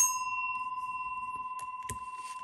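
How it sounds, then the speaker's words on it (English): A single struck bell rings out clear and sustained, its pure tone slowly decaying over a faint background with a few small knocks. "I'm going to ring the bell to clear out the energy"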